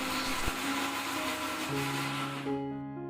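A mixer grinder whirs as it blends tomatoes with no added water, a loud, continuous motor drone that runs steadily and then winds down and stops toward the end.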